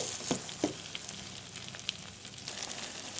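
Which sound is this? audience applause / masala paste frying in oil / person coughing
masala paste frying in oil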